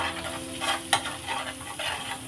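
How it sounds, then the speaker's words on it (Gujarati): Butter sizzles steadily in a pan as chili powder, salt and fresh coriander are stirred through it, with scraping strokes of the spoon rising and falling and one sharper clink near the middle, all close and without talk. "હવે બધી વસ્તુ આપણે આ રીતે સરસ રીતે મિક્સ કરી દેવાનું છે બટરની અંદર"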